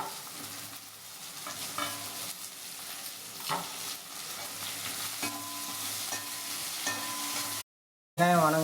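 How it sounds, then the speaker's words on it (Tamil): Onions sautéing in a pan while palak paneer is cooked, a continuous soft sizzle with occasional scraping stirs, briefly cutting to silence near the end before the frying resumes louder. "இப்போ இந்த ஆனியன் நல்லா சாட்டே ஆகணுங்க."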